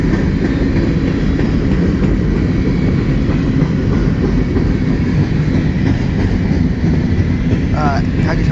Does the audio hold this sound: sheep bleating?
no